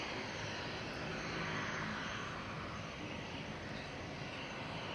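A 1953 Canadian-built de Havilland Otter seaplane drones steadily at Victoria Harbour, its broadband engine roar holding constant and fairly loud throughout with no speech.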